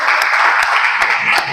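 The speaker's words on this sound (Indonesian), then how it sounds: "Tepuk tangan untuk kita semua." Group applause after a prayer at an Indonesian teacher-training (Guru Penggerak) gathering, a dense steady clatter of many hands lasting the whole moment, loud and close, with no talk over it.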